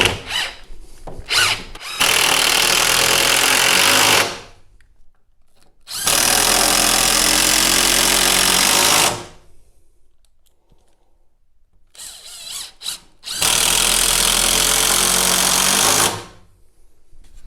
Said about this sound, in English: Drive the second screw straight in.